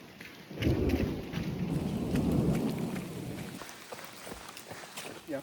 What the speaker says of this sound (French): Orage violent.